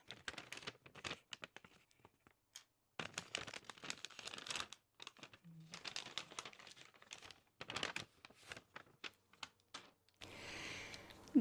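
Paper wrapping crinkles and tears in bursts of dry rustling, close up, with short pauses between handfuls and no talking.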